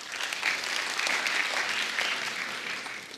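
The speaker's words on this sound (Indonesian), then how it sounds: "Tepuk tangan dulu buat Panji." An audience at a stage show claps steadily in a dense, even burst of applause that holds for the whole stretch at moderate distance, with no voices over it.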